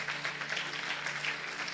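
A church congregation applauding in a steady, dense patter of clapping, fairly faint and distant, with no talking over it.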